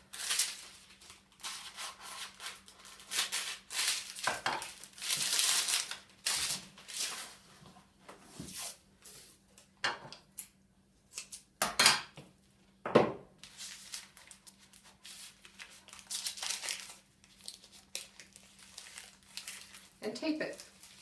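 Knife or scissors cutting through the parchment paper ends wrapped around a log of compound butter, with crinkling and rustling of the paper in short bursts, close and fairly quiet, under a speaking voice.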